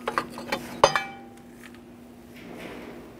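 A metal bracket in the engine bay of a 2002-2009 Chevrolet Trailblazer with the 4.2L L6 being slid aside, giving a few close, light metallic clinks and scrapes in quick succession, then fading to quiet.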